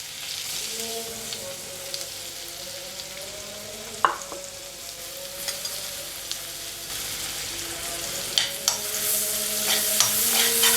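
Onion and cumin fry in butter for dal makhani, giving a steady close sizzle with stirring scrapes and a few sharp clinks of the utensil against the pan.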